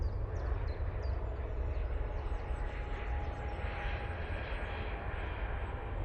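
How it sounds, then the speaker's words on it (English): An easyJet Airbus A320neo jet departs Manchester Airport in low visibility, with a steady, loud engine roar held throughout and faint birdsong above it. "Absolutely stunning departure there."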